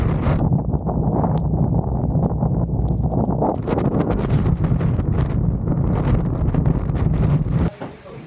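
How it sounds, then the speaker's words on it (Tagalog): Strong, steady wind roars and buffets the microphone on an open, elevated spot beside Agos River in Infanta, Quezon, loud and continuous with low rumble, easing off near the end. "Sumubro lakas ng hangin kasi open siya, tapos nasa taas."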